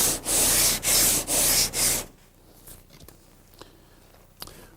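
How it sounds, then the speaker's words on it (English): Plastic body filler being sanded smooth with 40 grit paper on a sanding board: four loud rhythmic abrasive strokes, followed by quiet handling noises. "is I'm trying to sand this smooth"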